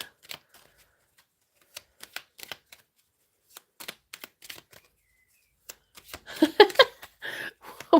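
Tarot cards are shuffled in quick, crisp riffles and snaps, in scattered bursts at first. They grow into a denser, louder flurry of shuffling toward the end, close up with no talking.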